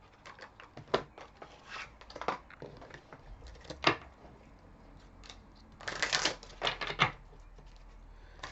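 Romance Angels oracle cards being shuffled and pulled, giving irregular soft flicks and riffling bursts of card stock close by, with a denser run of shuffling near the end and no talk.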